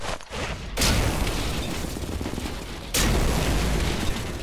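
Loud explosions in the Sniper Elite 4 video game: two sudden blasts, each followed by a sustained roaring rumble of debris and fire that fills the scene, with no speech.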